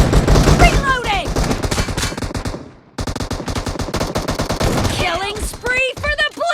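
Rapid S12K shotgun fire in PUBG Mobile cracks out in dense bursts, loud and close, with a brief lull midway; game announcer voices and effects chirp over the shooting.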